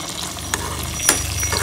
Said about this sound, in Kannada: ಈಗ ಒಗ್ಗರಣೆ ಚಟಪಟ ಅಂತ ಸಿಡಿತಾ ಇದೆ